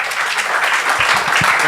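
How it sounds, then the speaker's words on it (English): Audience applause at a health hackathon pitch event fills a brief moment, a close, dense burst of clapping with a few louder individual claps standing out. "Everyone, round of applause for Russell, and good luck"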